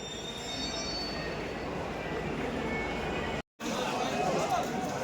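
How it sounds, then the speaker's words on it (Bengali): The Vande Bharat Express on the Srinagar–Katra route in Kashmir rolls in with a loud, continuous rail rumble and high wheel squeal, while people chatter nearby. "26/402 শ্রীনগর কাটরা বন্দে ভারত এক্সপ্রেস।"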